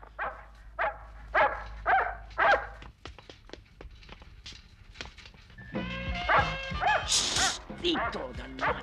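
A dog barks several times close by, then the barks turn into quicker yips and whimpers while someone talks over the later part.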